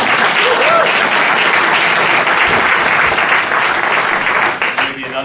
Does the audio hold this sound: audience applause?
yes